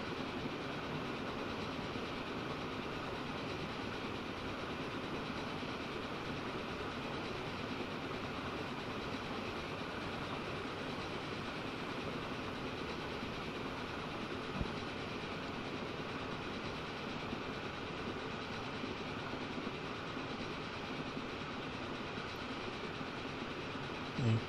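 A passenger train from the game Transport Fever 2 rumbles steadily along the rails for the whole stretch, with a constant wheel-and-engine drone at moderate volume and no talk.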